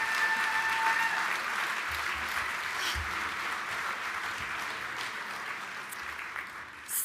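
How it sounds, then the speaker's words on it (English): Sustained audience applause fills an awards ceremony hall at the Bright Ideas in Health Awards, a steady, dense wash of many hands clapping at once that holds evenly and then tapers slightly toward the end. "Please give them a round of applause."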